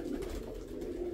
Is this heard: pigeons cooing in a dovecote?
yes